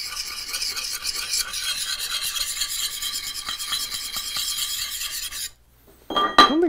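A knife blade is stroked repeatedly against a sharpening stone in a steady rasping rhythm of close, fairly loud scrapes, then stops into near silence before a few brief metallic clinks at the end.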